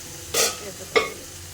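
Pork in a hot pan sizzles and is stirred in two quick scraping bursts, close and fairly quiet, with soft frying hiss between them.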